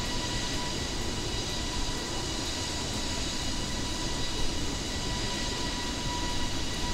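Airbus A320NX airliner in Microsoft Flight Simulator, a steady broad jet engine roar with a thin constant whine on top, even and unbroken throughout.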